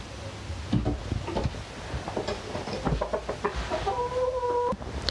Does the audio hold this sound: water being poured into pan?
no